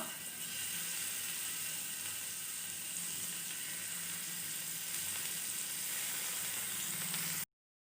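Paneer pieces fry in oil in a pan with a steady, dense sizzle and crackle that holds evenly throughout, then cuts off abruptly at the end.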